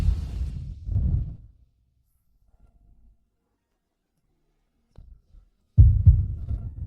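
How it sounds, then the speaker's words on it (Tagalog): Rapid heartbeat effect in a dramatic romance scene: a couple of deep, thudding low pulses at the start, then near silence, then the throbbing returns loud and close. "Ang bilis ng tibok ng puso!"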